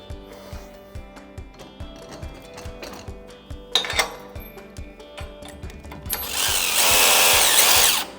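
Electric drill whirring in repeated short bursts with a ticking mechanical rhythm, ending in a longer loud sustained run, while a CyberRack server rack base is assembled with bolts and a wrench; no talking.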